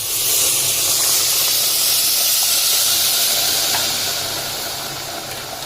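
Pressure cooker releasing a loud, continuous hiss of steam while khichuri cooks, close and steady before easing off slightly near the end, with no talk.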